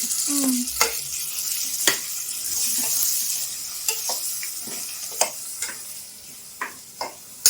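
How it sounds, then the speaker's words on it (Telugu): Tomatoes frying in a pan for a potato kurma curry, a soft steady sizzle broken by occasional sharp clicks of a spoon stirring against the pan, close and without talk. "టమాటాలు వేస్తున్నానమ్మా, కొంచెం వేగాలి."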